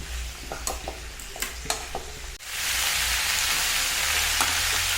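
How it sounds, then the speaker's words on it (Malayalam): Vegetables for avial tossed and stirred in hot oil, a few clinks and scrapes of the spoon, then a loud, dense sizzle that swells and holds steady. "എല്ലാ ഭാഗത്തും ഈ എണ്ണ പിടിക്കുന്നത് വരെ ഇങ്ങനെ മിക്സ് ചെയ്ത് കൊടുക്കുക"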